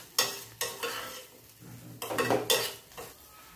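Ginger garlic paste frying with onions and green chillies in a village-style pan for mushroom curry, with bursts of sizzling and a few clanks of a spoon stirring against the pan, close and moderately loud, no talking.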